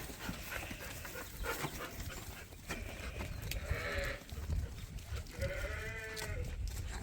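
Sheep on a farm bleat in short wavering calls over steady outdoor background noise, mid-distance, with a dog moving about nearby; no one speaks.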